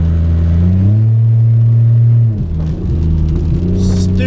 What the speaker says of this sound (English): This car is stupidly loud.